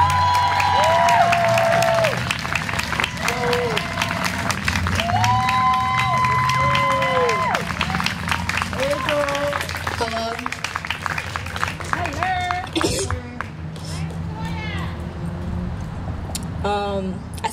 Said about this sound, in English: I need all the love, all the yells, the claps, the snaps, if you can